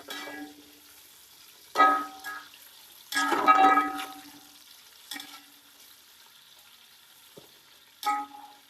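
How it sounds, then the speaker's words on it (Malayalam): Small sliced onions frying in a pan for a mixed chicken biryani, a faint low sizzle broken by several short bursts of stirring and scraping, spaced irregularly over several seconds. "സബോളയൊക്കെ അതാ വാടി ഒരുവിധമായി."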